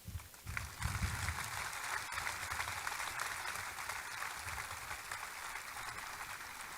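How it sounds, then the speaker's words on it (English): An audience at a military base redesignation ceremony applauds, dense sustained clapping from many people heard at a distance, steady and fairly faint throughout. "Would you please join me in a round of applause for all of them?"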